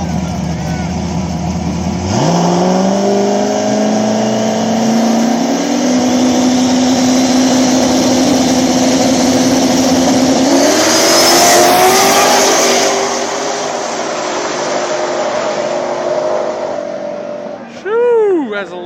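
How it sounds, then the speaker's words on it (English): A turbocharged Nova and a turbocharged Mustang drag race at a small-tire event at a local Ohio track, engines roaring loudly as they launch and rise in pitch down the strip, then fading before a short distant pass near the end. "you got Turbo Nova taking on Turbo Mustang"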